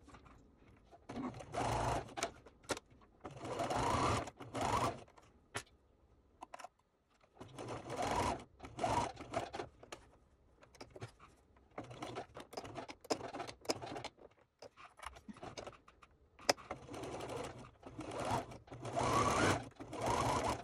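A finicky sewing machine stitches a doll dress in a series of rapid, rhythmic bursts of close mechanical clatter, separated by short pauses.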